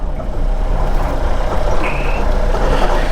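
Custom-built 4x4 off-road vehicle with its right rear wheel spinning freely without traction: a loud, continuous engine roar and rumble with rough, churning noise throughout, steady and close, with no one speaking.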